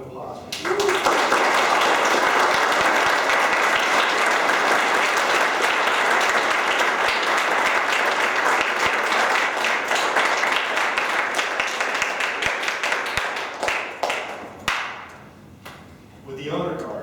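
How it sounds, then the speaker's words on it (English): An audience at an Eagle Scout Court of Honor ceremony breaks into loud, sustained applause that swells immediately, holds for about thirteen seconds, then thins out into scattered claps before a voice begins speaking. "Let's have a round of applause."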